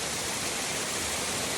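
A small waterfall gives off a steady, dense rush of splashing water, heard close and constant with no voices.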